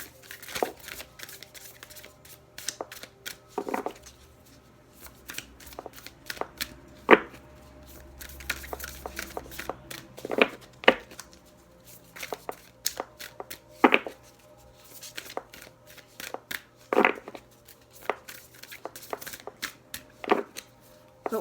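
Tarot cards being shuffled and riffled in repeated bursts, close by, with crisp slaps and papery rustles separated by brief pauses.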